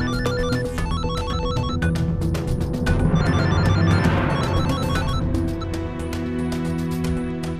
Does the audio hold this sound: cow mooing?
no